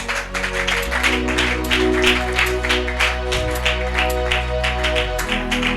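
A church congregation at a repentance-week service claps rhythmically along with sustained keyboard music. The hand claps are close and steady, with no speech over them.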